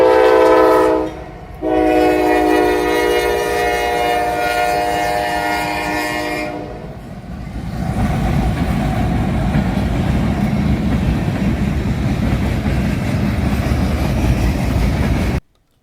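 A Norfolk Southern freight train, NS 174, passes at midnight with six locomotives, NS 8101 trailing, its horn blasting loud and close before giving way to a steady rumble and clatter of rolling cars.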